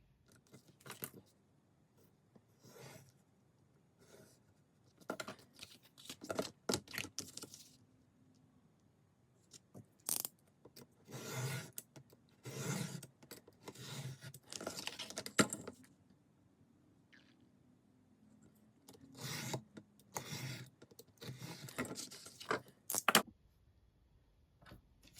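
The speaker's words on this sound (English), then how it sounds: "Grab another piece of my cardboard and just trace this out and cut another one of those" Scissors cut through a piece of packaging cardboard in short, crisp snips and crunches, sounding close and quiet in irregular bursts separated by pauses, with no talk.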